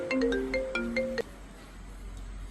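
A mobile phone ringtone plays a short, bright melodic phrase of repeated tones indoors for about a second before cutting off abruptly, leaving a quiet room.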